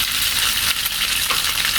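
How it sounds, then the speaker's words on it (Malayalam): Chicken pieces cooked with salt, chili powder and garam masala are shallow fried in oil, giving a loud, steady, close sizzle with crackling throughout. "ആദ്യം ചിക്കൻ ഷാലോ ഫ്രൈ ചെയ്തെടുക്കണം."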